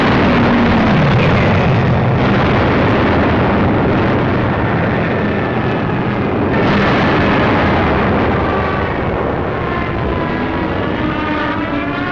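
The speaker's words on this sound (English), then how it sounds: "From the skies, a bombardment to which we had no adequate answer." Air bombardment in a WWII battle in Tunisia: a loud, continuous roar of explosions and aircraft noise rumbling throughout, with swelling blasts and no talk.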